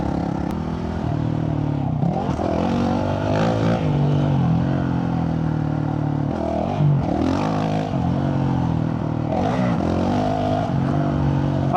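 A Honda CRF450RL dirt bike with a stage 2 tune rides along, its engine loud and close as it revs up and down in repeated surges while the rider shifts, no talk.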